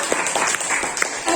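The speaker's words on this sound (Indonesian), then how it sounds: "Tepuk tangan untuk Ardi." Short burst of applause for Ardi at an RRI Tanjungpinang staff meeting, a small group clapping with individual claps audible, close and fairly loud.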